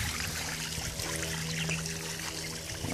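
A small garden fountain beside a little fish pond lets water trickle and splash softly in a steady, faint flow under low outdoor hum.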